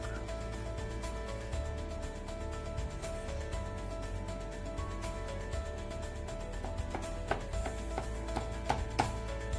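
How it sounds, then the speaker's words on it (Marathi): A knife cuts through a set slab of kothimbir vadi, the steamed coriander fritter, leaving faint repeated taps and scrapes on a board against a steady low background hum, with quicker clicks toward the end. "तर बघा आता मी कापून घेते वडी"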